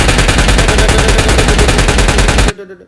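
Rapid, continuous M416 assault rifle fire in a video game, a dense loud burst of automatic shots lasting about two and a half seconds before cutting off abruptly into a faint tail.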